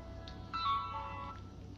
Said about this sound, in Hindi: दीपू का फोन है